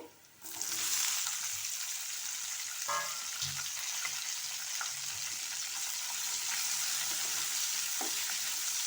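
Capsicum cubes fry in hot oil in a pan, a loud continuous sizzle that begins abruptly and holds steady, with a few clicks of stirring.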